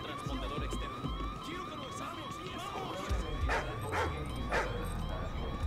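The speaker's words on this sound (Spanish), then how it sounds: "El perro se pone en plan violento con nosotros" Dog barking in the snow-and-ice missions of Call of Duty: Ghosts, a few sharp yaps near the end over a busy, constant game soundscape with sirens and steady background noise.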